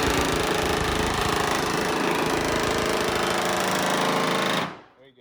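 A power tool cuts sheet metal on a 1955 Chevy Nomad, a loud, steady, buzzing and rattling drone that runs continuously, then stops abruptly near the end.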